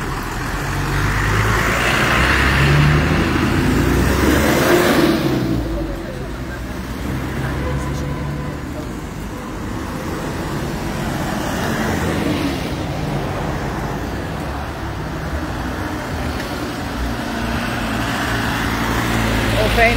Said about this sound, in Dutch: Dit zijn particuliere bussen.